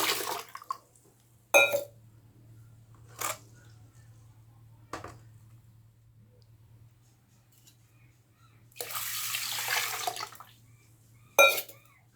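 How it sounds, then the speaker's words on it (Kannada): Water is poured over washed rice and urad dal set to soak for dosa batter, one brief close splashing pour late on, with scattered short knocks and clicks across an otherwise quiet kitchen. "ನೀರು ಹಾಕ್ಬಿಟ್ಟು ನೆನೆ ಇಡ್ತಾ ಇದ್ದೀನಿ."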